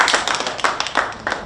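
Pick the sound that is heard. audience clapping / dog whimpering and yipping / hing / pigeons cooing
audience clapping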